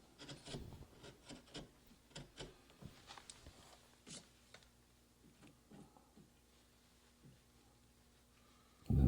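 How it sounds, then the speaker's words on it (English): A hand-pushed 8-sweep gouge slices and skews through oak toward a stop cut, with no mallet, giving a series of short, close scraping and rasping strokes that fade into quieter shavings before a sudden thump at the end. "here I'm slicing and skewing, pushing to the stop cut"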